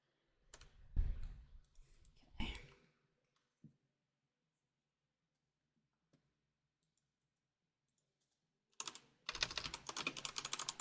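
Clattering bursts of typing on an uneven computer keyboard, close and fairly quiet, come in short flurries separated by a long stretch of near silence before a denser run of keystrokes at the end.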